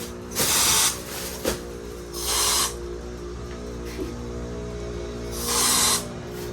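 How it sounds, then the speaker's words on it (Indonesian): Mosquito insecticide aerosol sprayed indoors against mosquitoes and flies, three loud hissing bursts of about half a second to a second each, separated by pauses with a low steady hum underneath. "Suamiku butuh ini, semprotan nyamuk. Karena banyak serangga, ada lalat juga, jadi disemprot biar hilang."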